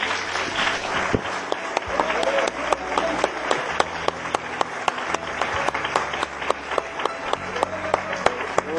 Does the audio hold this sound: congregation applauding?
yes